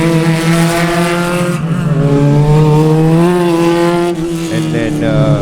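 Spec Miata race cars battling closely at Sebring in an SCCA race, engines droning loud and steady with rising and falling pitch as they shift, while a commentator talks over the racing throughout.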